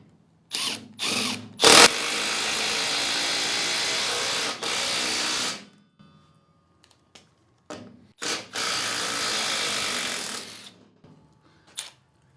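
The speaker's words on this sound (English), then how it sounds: "Let's run the bolt in." A Milwaukee M12 Fuel impact driver drives in a bolt with loud, close bursts of rapid hammering, a long run followed by short pauses and further bursts, with no talking.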